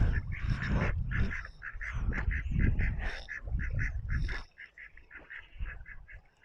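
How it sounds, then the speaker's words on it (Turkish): Ducks on a pond in a town park honk and quack in a busy, overlapping chorus, close and loud, then thin out to scattered calls. "Gördüğünüz gibi ördekler var."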